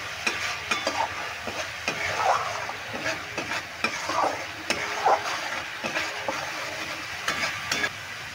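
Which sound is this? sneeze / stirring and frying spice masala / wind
stirring and frying spice masala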